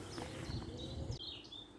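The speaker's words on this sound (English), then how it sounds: "I've here a blackbird." On an outdoor walkway, a blackbird gives a brief, faint, fluting whistle of a few clear tonal notes. It comes mostly in the second half, over quiet ambient background noise.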